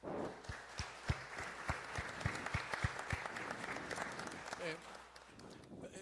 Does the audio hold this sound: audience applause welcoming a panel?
yes